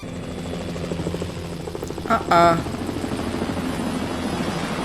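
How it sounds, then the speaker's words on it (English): A helicopter drones steadily in the background, a constant low rotor buzz, with voices and a brief louder burst partway through. "Why is there a helicopter?"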